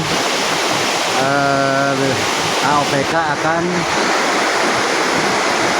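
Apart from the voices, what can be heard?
flowing water of the Cianjur river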